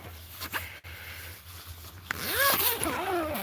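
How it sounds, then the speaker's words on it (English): A double zipper on clothing rasps downward in a few quick, close pulls, with soft handling rustles leading up to it. "this is also a double zipper, so you can zip it down"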